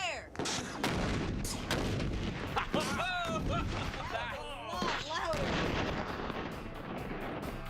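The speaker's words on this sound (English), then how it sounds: "The ANFO definitely packed a punch, and the shockwave is clear to see." Ten pounds of ANFO explosive detonates outdoors in a heavy, loud blast followed by rolling rumble and crackling debris, with excited voices and shouts over the aftermath.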